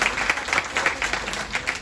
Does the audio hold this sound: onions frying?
no